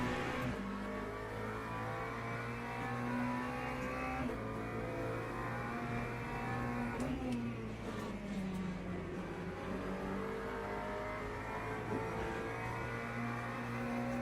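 Race car engine in the sim racing game Le Mans Ultimate, droning steadily throughout with rising and falling revs and gear changes, loud and continuous with no talking.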